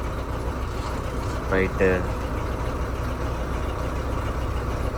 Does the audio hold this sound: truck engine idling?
yes